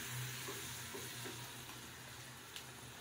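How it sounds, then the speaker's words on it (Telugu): Chicken biryani masala with turmeric being stirred in a pot, a soft steady sizzle and faint scraping under a constant low hum, quiet and continuous with no talking. "కలుపుతున్నాం."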